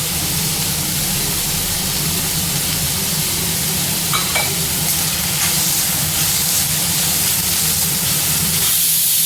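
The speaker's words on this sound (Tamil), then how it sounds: "வெங்காயம் நல்லா வதங்கிருச்சு" Onions sauté in a pan with a continuous hiss and sizzle of frying, steady and close, with faint scraping as they are stirred, while cooking a spicy prawn and potato dish.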